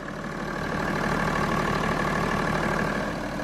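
A modified BMW 335d E90 diesel engine with around 100,000 miles idles steadily, a dense continuous rumble with an even low throb, close by and alone with no talk.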